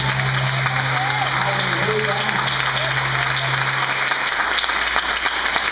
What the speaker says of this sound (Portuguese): Dá um aplauso bem forte para vocês